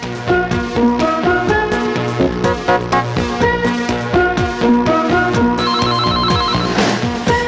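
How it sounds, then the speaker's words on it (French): A telephone bell rings loudly in repeated bursts over a French radio broadcast, with music-like tonal layers beneath and a brief higher warbling tone near the end. "Le téléphone sonne."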